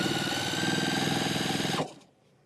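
A sewing machine running steadily for free motion quilting, a dense rapid needle drone close by that holds for almost two seconds and then stops suddenly, leaving quiet.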